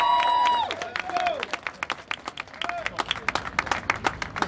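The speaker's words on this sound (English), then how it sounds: "Come on, clap it up. Clap it up." A crowd at a justice rally for Jeremy McDole claps, starting with cheering and shouts and moving into loud, uneven rhythmic hand clapping.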